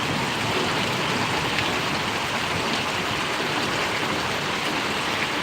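Steady rain pours down in Paravadi village in Gariyadhar taluka, a dense, even hiss of falling water that holds at constant loudness throughout.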